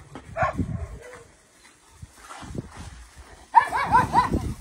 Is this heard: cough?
no